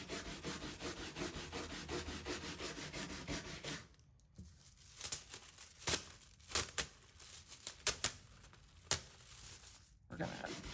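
Transfer foil scrubbed by hand onto a sample board over a dark base color, dry rubbing and scratching strokes up close, a steady continuous stretch giving way to separate short swipes with brief pauses between them.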